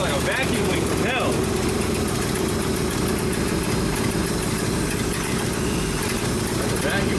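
A Ford F-600 dump truck engine idles steadily with a vacuum leak, a continuous close mechanical rumble under a faint hiss, with voices talking over it throughout.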